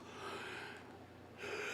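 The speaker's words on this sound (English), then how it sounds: "What you yawning for, kid?" A person yawns in one long drawn breath, faint and close, ending in a louder breathy exhale near the end.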